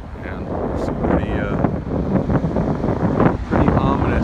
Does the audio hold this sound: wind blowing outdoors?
yes